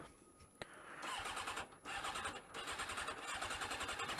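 Motorcycle engine starting with a quick crank, then catching and settling into a close, loud, throbbing idle with a couple of brief dips in revs.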